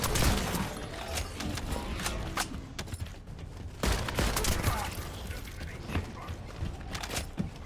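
Rifle fire in a video game, with rapid bursts of sharp cracks in irregular clusters over a constant game background, loud and close.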